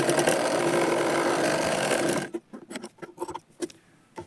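A sewing machine runs loud and continuous while stitching a katori blouse seam, then stops and gives a string of separate clicks and short, clattering stitch bursts up close.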